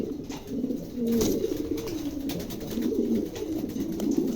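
King pigeons coo repeatedly in low, rolling phrases, close and fairly soft, from birds kept for sale, with faint background noise and no talk.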